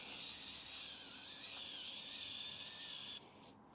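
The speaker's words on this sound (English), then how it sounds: "Even my electric screwdriver is struggling here." An electric screwdriver whines steadily and strains while tightening a screw on a 3D printer printhead mount, with a continuous high motor hum that cuts off near the end.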